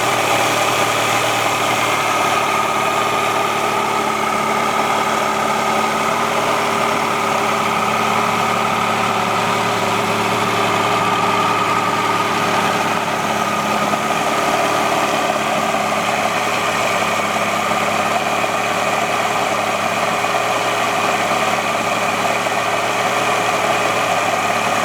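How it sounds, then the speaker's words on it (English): A Mercury 115hp Tower of Power outboard engine idles steadily, a loud, constant hum with a faint rattle that holds unchanged throughout, with no talking. "I've got a video of the engine running which I took today"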